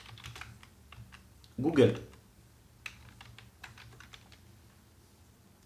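Typing on a computer keyboard, soft scattered keystrokes at a steady pace, near and quiet, with a brief spoken word partway through.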